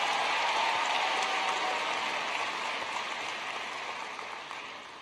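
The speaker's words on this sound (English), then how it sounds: "Let's give all of these valedictorians a warm round of applause for their hard work." A crowd at a university commencement ceremony applauds valedictorians: sustained, dense clapping that fills the hall and slowly fades toward the end, with no speech over it.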